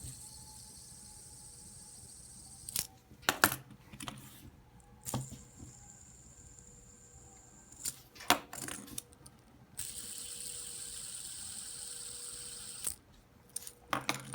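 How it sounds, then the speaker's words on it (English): Fidget tri-spinners from 7-Eleven, Walgreens and Amazon spun one after another, each giving a quiet, steady whirring hum with sharp clicks and rattles as the spinners are flicked and stopped, close and faint overall. "as far as sound goes, I'm gonna give each one a spin"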